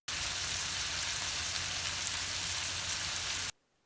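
Chickpeas frying in a pan hiss with a steady, bright sizzle that holds evenly for several seconds, then cuts off abruptly.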